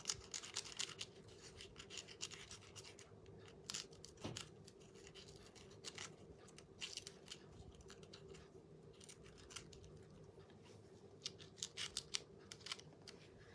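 Scissors cutting decoupage paper for a light switch cover: a faint, close run of quick snipping and rustling scratches, irregular with short pauses, alone without talk.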